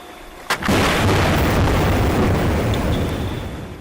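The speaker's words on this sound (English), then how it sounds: "They create a very loud bang with air guns." A sudden sharp crack from a seismic-testing air gun far out at sea gives way to a huge, deep booming roar that rumbles on for several seconds before slowly fading.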